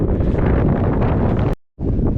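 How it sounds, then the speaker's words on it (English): Strong, steady wind on a mountain summit near Chamonix roars and buffets the microphone, dropping out briefly before gusting back in, loud and close with no talking. "It's windy though, very windy."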